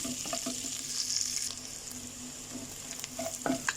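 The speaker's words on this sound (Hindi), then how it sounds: "अब इसे 1 मिनट के लिए इसे भी फ्राई करना है।" Spring onion whites frying in a pan for chicken Schezwan fried rice, a continuous close sizzle broken by occasional spatula scrapes and taps, no talking.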